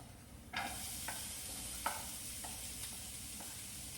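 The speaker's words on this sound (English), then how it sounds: "Let's throw our beautiful diced onions in here." Diced onions dropped into a hot pan for Korean beef fried rice with carrots: a sudden burst of sizzling, then a steady fry with several spatula stirs and scrapes, quiet and close, no talk.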